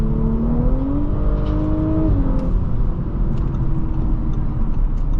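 A 2023 Audi S5 Prestige accelerates hard from the cabin, its engine note climbing steadily and then shifting once before pulling on as a loud, continuous rumble with no talking.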